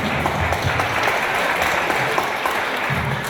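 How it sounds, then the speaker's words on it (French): An audience claps loudly and densely for a few seconds in a hall, a continuous close wash of applause with no talking over it. "Et moi, à mon tour, je vous applaudis pour ce petit silence."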